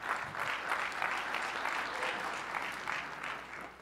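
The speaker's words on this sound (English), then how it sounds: "Let's give James a round of applause." An audience at a tech conference applauds a speaker, steady broad clapping from many hands that holds evenly throughout, fairly close and without pause.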